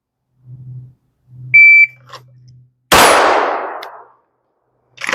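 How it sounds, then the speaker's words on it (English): A Glock 34 Gen 5 pistol at a steel-target range: an electronic beep sounds, then a single sharp, loud shot cracks and rings out, fading over about a second before another report begins at the end. "It's at least hitting decently on the steel."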